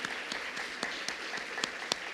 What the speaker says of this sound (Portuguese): Vamos aplaudir a Ele bem forte.